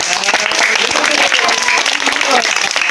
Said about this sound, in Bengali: মুন্নার জন্য সবাই একটা করতালি